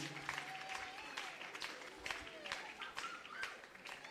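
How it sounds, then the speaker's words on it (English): Dense applause from a large crowd of graduates at a graduation ceremony, steady and sustained, with scattered cheers and whistles over the clapping. "dear graduates, you can clap for your friend"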